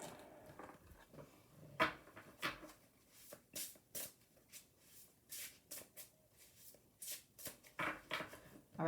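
A deck of oracle cards is shuffled by hand, with soft close riffles and slaps coming in quick irregular bursts over a quiet room.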